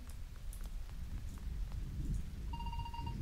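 Rain patters steadily in the Loomian Legacy video game, a soft continuous hiss with low rumble, and a thin electronic beep tone enters near the end.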